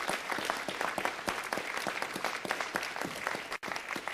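A council chamber audience gives a steady round of applause for the Shriners, dense continuous clapping at an even level throughout with a brief dip near the end.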